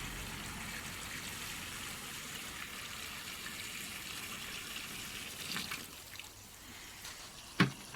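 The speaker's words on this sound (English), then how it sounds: "This is a hot water from the tap." Hot water pours from a tap into a 6-foot round Chad Valley paddling pool, a soft steady running flow at moderate distance with a few sharp knocks near the end.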